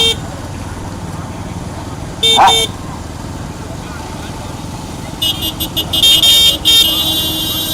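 Car horn honks on a road in short toots, one near the middle and a burst of several toward the end, over a busy background of continuous loudspeaker talk.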